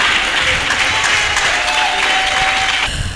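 A church congregation claps and cheers loudly for a newly married couple, steady dense applause sustained throughout, ending somewhat abruptly.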